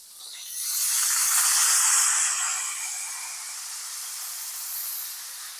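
Frozen stir-fry vegetables hit a skillet of olive oil and margarine with a loud rising hiss and sizzle that peaks and then settles into a steady crackle.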